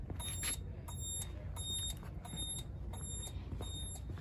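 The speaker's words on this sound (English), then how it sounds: "These are not self-canceling turn signals on golf carts, which is why you've got the buzzer" A Yamaha G16 golf cart turn signal buzzer beeps in a regular, steady rhythm, about six short high-pitched pulses over a low engine-like hum.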